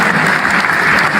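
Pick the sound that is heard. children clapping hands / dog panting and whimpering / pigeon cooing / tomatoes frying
children clapping hands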